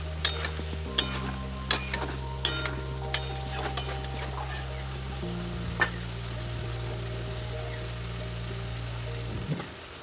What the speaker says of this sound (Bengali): তো এখন মাছ ভাজাগুলো দিয়ে দিলাম।